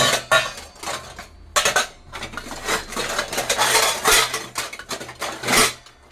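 Pots, dishes and cutlery clatter in a home kitchen while someone rummages for the pot used to boil milk, with repeated bursts of clanking and scraping, close and fairly loud, and no talking.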